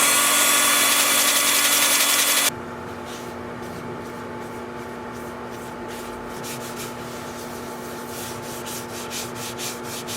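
Sandpaper working through grits from 80 to 400 on a turned fir wood bowl, a loud steady rubbing hiss at first that drops to a quieter continuous scratching with faint rhythmic strokes, no talking.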